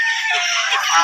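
Ducks at a zoo in Islamabad let out a loud, harsh, honking call up close, one short burst of raspy squawking.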